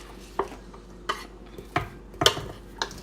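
Cut vegetables dropped into a pot of oxtail for a Jamaican thanksgiving meal, heard as five separate clattering knocks of a utensil against the pot, spaced irregularly and fairly close, with quiet between them.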